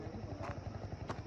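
Motorcycle doing stunts on a hiking trail at Marble Danda, Godawari: a brief, faint, throbbing engine rumble with a voice over it.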